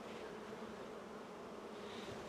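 Honeybees drone around their hive in a dense, steady buzzing swarm, faint but continuous throughout, with no voices.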